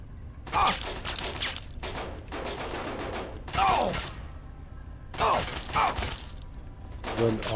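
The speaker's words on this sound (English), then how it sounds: "Who the fuck is shooting me?" Bursts of automatic gunfire in Fallout 3, several loud rattling volleys separated by short gaps, close and harsh, with a voice briefly heard between them.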